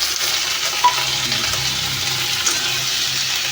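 Continuous hissing sizzle of potatoes frying in hot oil, with a faint scrape or two of stirring, steady and close.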